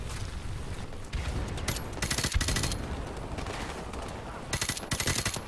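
Rapid bursts of gunfire in the Modern Warfare Remastered campaign, loud automatic fire hammering in clusters with brief gaps, a dense volley at the start and again near the end, with no talk over it.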